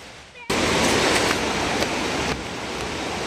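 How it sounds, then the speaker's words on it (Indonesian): A rocky river rushes loudly nearby, a dense steady roar of water tumbling over stones that starts abruptly and then runs on continuously without speech. "Ini suara gemercik airnya kenceng banget karena di sini ini memang sungai yang banyak batunya"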